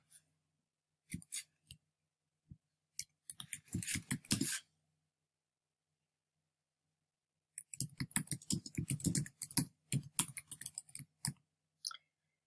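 Bursts of clicking keystrokes on a computer keyboard as a project name is typed into a form field, close and crisp, with a quiet pause in the middle and no talk.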